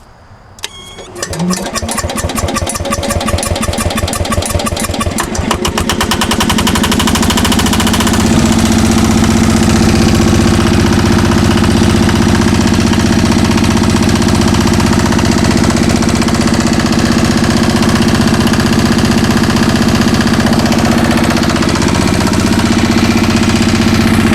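A 65-year-old Onan diesel generator set starts with quick cranking chugs and catches, then settles into a loud, steady, throbbing drone as it runs under load, close and alone.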